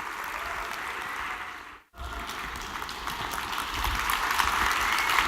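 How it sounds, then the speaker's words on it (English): An audience at a conference event applauds, a dense wash of clapping that cuts out abruptly for a moment and then resumes, swelling a little louder toward the end. "Please give a round of applause."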